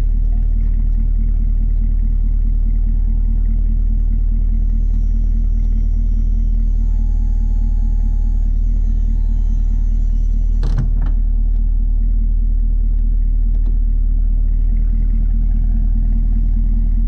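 A parked car's engine idles steadily to warm up, a loud constant low rumble close by, with a brief knock partway through and no talk.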